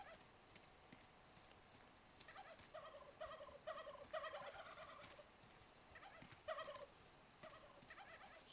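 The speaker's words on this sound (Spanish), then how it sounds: "Suenan muchos pavos por aquí." Several turkeys gobble in the video game How to Survive 2, bursts of rapid warbling calls, overlapping and repeating over a faint noisy background.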